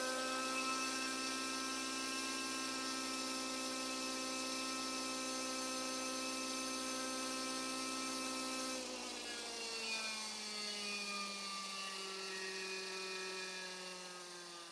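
A Miniature Aircraft X-Cell 60 model helicopter's small engine whines steadily at high pitch, then its tone drops and winds down as it cuts off near the end.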